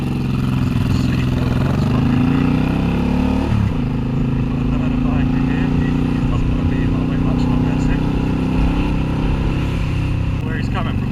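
A Suzuki Intruder 800c motorcycle riding with its exhaust thrumming low and steady, a brief rev-and-drop in pitch near the start. Wind rushes over it, and a rider talks throughout.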